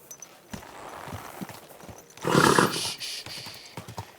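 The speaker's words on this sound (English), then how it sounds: "Easy, good horse." Horse in the medieval game Kingdom Come Deliverance 2, giving a loud snorting whinny in the middle of steady hoof clip-clops and soft movement, close by with no talk.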